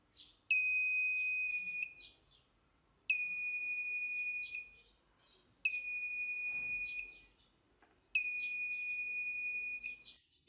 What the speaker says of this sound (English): the simplest way to build a proximity detector with an alarm